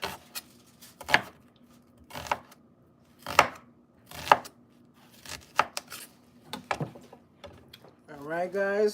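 A knife chops onions on a board for vegan curry in a kitchen, sharp individual thuds spaced irregularly, close and clear, with a voice speaking briefly at the end.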